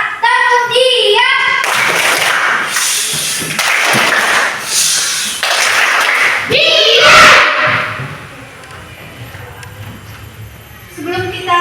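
Schoolchildren clap in a classroom, loud bursts of rhythmic group clapping between stretches of children's voices, fairly close.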